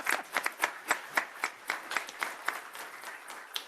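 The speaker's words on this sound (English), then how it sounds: "give her a round of applause" A small group of meeting attendees clapping at a county board session, about a dozen distinct claps in a loose, uneven rhythm, close but fairly quiet, thinning toward the end.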